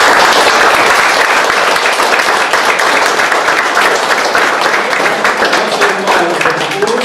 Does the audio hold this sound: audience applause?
yes